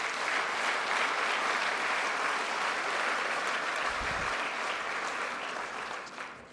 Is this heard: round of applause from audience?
yes